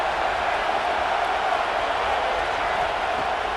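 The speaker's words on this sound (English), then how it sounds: "this crowd is turning it up a notch" Stadium crowd roar from a College Football 26 game, a steady dense wash of massed voices holding loud and even for several seconds with no distinct cheers or breaks.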